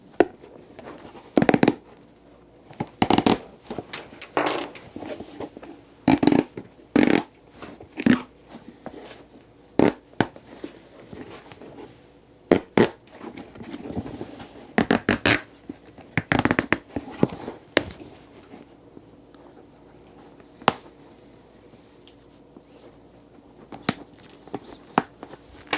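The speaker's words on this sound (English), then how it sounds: "cut the stitches on the sole, and then pluck the stitches on the welt" A cobbler cuts and plucks stitches on the sole and welt of a Viberg boot, giving sharp, close snips and crunchy tugs at irregular intervals with quiet gaps between, and no talking.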